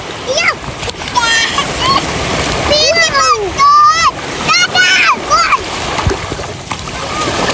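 Water splashes as children swim in the sea on a family beach outing. Choppy bursts of splashing mix with excited, high children's shouts and chatter throughout.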